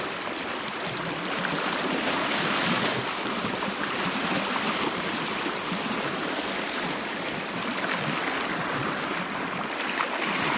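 Fast river water rushing around a vehicle at a crossing on the Dargo tracks, a loud steady broadband rush and churn with wind, no talk.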